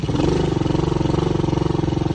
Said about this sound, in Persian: بزنیم تو دنده بریم